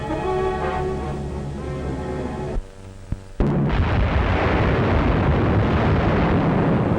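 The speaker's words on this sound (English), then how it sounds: "Unopposed bombing raids sent defenseless civilians fleeing in stark terror." Bombs exploding in WWII bombing raids on undefended civilians, loud heavy rumbling blasts on an old film soundtrack, a sharp drop and a single crack, then a renewed dense roaring barrage.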